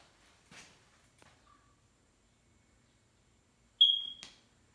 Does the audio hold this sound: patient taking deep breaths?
no